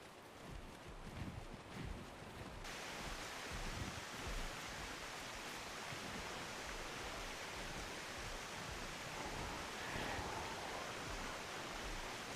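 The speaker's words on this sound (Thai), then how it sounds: "นี่ตรงนี้มีน้ำตกครับ" A waterfall in the video game ARK Survival Ascended gives a steady, even rush of falling water that holds at a constant level, alone with no voices.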